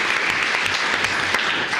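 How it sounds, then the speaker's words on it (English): A commissioners court audience claps for a 25-year employee in a brief, dense burst of applause, steady and close. "let's give him a round of applause"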